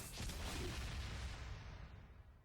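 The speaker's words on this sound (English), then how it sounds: "Just an AoE explosion." Mana Bomb area explosion in Dungeon Defenders 2: a broad, dull boom with a rumbling, noisy wash that fades over a couple of seconds.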